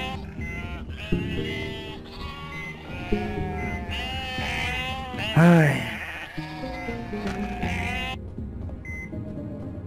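Sheep in the video game UnMetal bleat repeatedly among game music and effects, with one loud, wavering bleat standing out midway and a person's brief exclamation in between.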